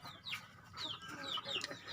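Chickens cluck nearby in a rural setting, with a series of short, sharp calls repeating irregularly over a low background hum, moderately faint with no clear talk.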